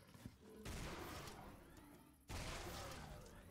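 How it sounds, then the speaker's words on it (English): Two loud, sharp Gauss rifle shots from the Minecraft Techguns mod, each a sudden crack followed by a long bright electric hiss trailing off, the second arriving about two seconds after the first. "Next, we have our Gauss rifle here. 32 damage straight out of the bat. Two shots."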